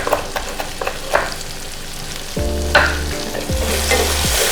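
Chopped onions fry in a pan for a pineapple fry, a soft crackling sizzle with scattered spoon clicks, then louder, steadier frying and stirring over the second half; no voices.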